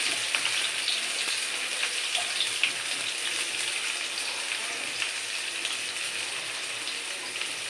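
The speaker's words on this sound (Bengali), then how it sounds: "এই পেঁয়াজগুলো আমি ভাজছি।" Onions crackle and sizzle in a mix of hot ghee and oil, a dense, steady frying hiss that holds evenly throughout without any talking.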